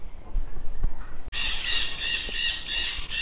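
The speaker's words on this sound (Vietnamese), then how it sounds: "đây là cái vườn con vẹt nào các bạn" Parrots in a parrot garden let out a loud, continuous harsh squawk that starts abruptly after some low background rumble and carries on steadily to the end.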